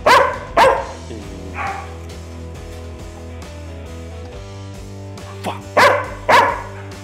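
A dog barks on command during obedience training, giving sharp loud barks in pairs near the start and again near the end, with quieter yips between over a low steady background hum.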